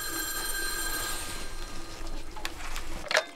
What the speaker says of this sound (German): Da klingelt das Telefon.